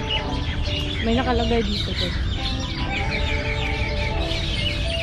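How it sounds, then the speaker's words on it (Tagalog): Many birds chirp and call noisily in the cactus garden at Noor Garden on Al Noor Island, Sharjah, a dense outdoor chorus heard close and loud while a person talks briefly over it. "Grabe ang ingay ng mga ibon."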